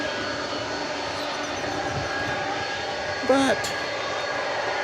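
Jet airliner departing runway 18 left at DFW Airport, Dallas: a steady, broad engine roar holding throughout, with a brief spoken word heard over it.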